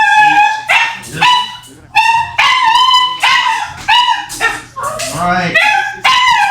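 A dog indoors lets out a close, loud run of sharp barks and yips mixed with high whining whimpers, in repeated bursts with short gaps between.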